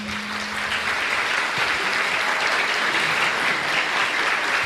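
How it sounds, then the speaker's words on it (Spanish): An audience at a talk on inclusive education claps steadily, a dense and even burst of applause that holds at full strength from start to finish. "Yo quiero un aplauso para todas nosotras."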